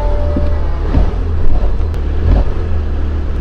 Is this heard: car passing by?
yes